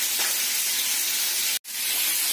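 Tilapia sizzles in hot oil, a steady loud hiss and spatter that cuts out briefly near the end before resuming.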